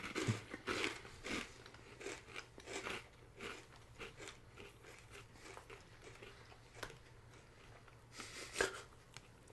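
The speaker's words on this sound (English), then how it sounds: "Listen to the crunching." Close, loud crunching and chewing of a crisp cereal-like snack resembling Cookie Crisp, with repeated bites and munching throughout, no talk over it.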